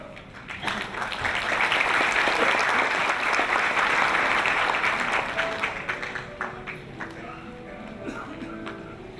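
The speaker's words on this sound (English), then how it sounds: "Let us welcome him with a big round of applause." An audience breaks into a big round of applause to welcome an ISKCON preacher at a peace gathering in Myanmar, loud dense clapping swelling quickly and then gradually thinning out over several seconds.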